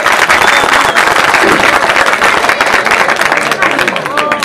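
Outdoor PTI election rally crowd applauding loudly, dense sustained clapping and cheering from a large audience that fills the whole stretch, with a voice over the loudspeaker mixed in.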